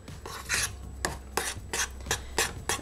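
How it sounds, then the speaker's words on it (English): Blue cake batter from a boxed mix being stirred in a bowl, with about eight rhythmic rasping scrapes of the utensil against the sides, close and fairly loud. "And hopefully that scraping doesn't come up too annoying on camera."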